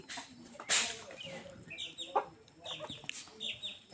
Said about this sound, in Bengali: আমার এই দুইটা বুড়ানি মুরগি আছে আর বাচ্চা আছে তিনটা